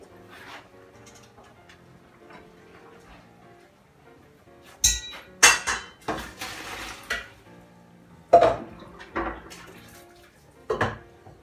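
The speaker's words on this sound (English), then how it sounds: "get a good sized colander and we're going to drain this off and just leave it to one side" A saucepan is drained into a colander, giving bursts of clattering metal and splashing water between quieter stretches, close and fairly loud with no talk.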